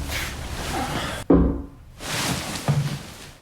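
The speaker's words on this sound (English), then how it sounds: "he hears mysterious knocking from behind the wall" Knocking comes from behind a wall in a tense film scene: a sharp, hollow thump rings out, then a quieter pair of knocks follows over a low background rumble.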